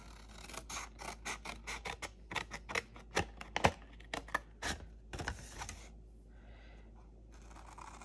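Scissors snipping through card for a pop-up birthday card, a run of crisp, close cuts in irregular bursts, some quick and clustered, then a quieter pause with faint rustling.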